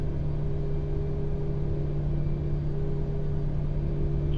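Airbus A320 engines in a flight simulator spool up steadily from cold and dark as power is applied, a continuous low rumble with a steady tonal hum, alone and even in level.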